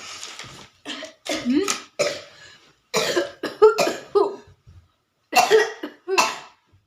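A child's repeated coughs and throat-clearing sounds in uneven bursts, close by, with short pauses between each fit.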